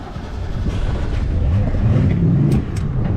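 Outboard boat engine on Lake Powell catching and running in rough water, a steady low rumble holding close and fairly loud for a few seconds with light splashing over it.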